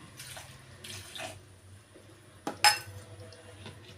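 Boiling water poured into a mixer grinder jar for grinding jackfruit seeds, with two splashy pours followed by a sharp clatter and a louder burst close by.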